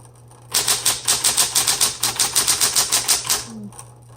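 A 1970s Smith Corona Electra 210 electric typewriter clacks through a quick burst of about twenty evenly spaced keystrokes over a faint motor hum, close and crisp, ending with a short soft mechanical sound.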